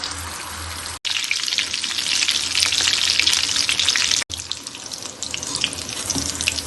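Mutton kola urundai balls deep frying in hot oil give a loud, steady, crackling sizzle with dense bubbling, broken by two brief cuts into silence.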